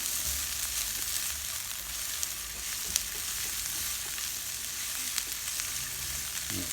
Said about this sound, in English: Sweat them down so they become a little bit translucent, and that's your onions on the way.